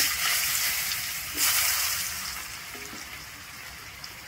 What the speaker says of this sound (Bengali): মাছ ভাজার তেলের মধ্যেই প্রথমে আমি আলুটাকে ভেজে নিচ্ছি।